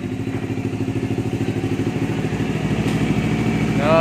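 A Kawasaki Ninja 400 with a titanium Akrapovič exhaust runs at high RPM, a loud steady buzzing drone with fast rhythmic pulses that holds throughout and builds slightly near the end, with no speech.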